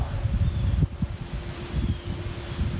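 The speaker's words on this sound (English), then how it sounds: "like I said, it's super windy" Strong wind gusts roar and buffet the microphone in uneven surges over a ravine in Minnesota, with faint rustling underneath; no one speaks.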